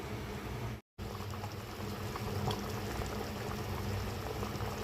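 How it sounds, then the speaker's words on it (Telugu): Pot of dal (lentils) boiling vigorously, a continuous close bubbling and gurgling with a brief dropout near the start, no speech. "పప్పు అయితే బాగా ఉడుగుతూ ఉంది కదా"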